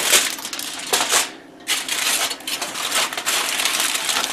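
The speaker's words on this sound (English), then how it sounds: "don't panic when you see me cutting tin foil with scissors" Scissors snip through heavy-duty tin foil with loud, crinkly crunching cuts and rustling, repeated in quick succession with a brief pause in the middle.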